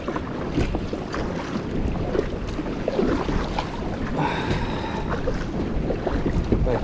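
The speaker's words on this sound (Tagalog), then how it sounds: "Malaki ang alon." Big sea waves slosh and slap around a small paddled boat, a steady close wash of water and gusty wind noise filling the whole stretch.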